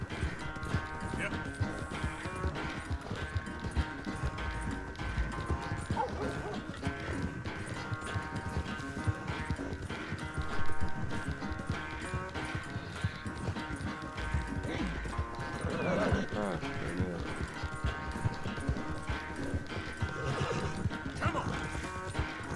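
Rhythmic hoofbeats of a galloping horse during a race in Red Dead Redemption 2 run continuously, with occasional whinnies, over a busy backdrop of game music and effects.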